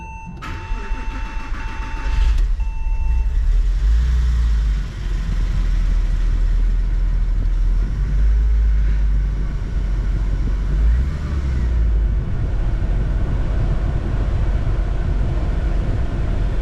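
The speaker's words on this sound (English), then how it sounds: "Let's fire this engine up." A Porsche Boxster 986 engine, freshly reassembled after an IMS bearing replacement, cranks and catches with a loud rattly start, then settles into a steady, rumbling idle that continues throughout.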